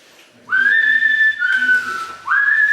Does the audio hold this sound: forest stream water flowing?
no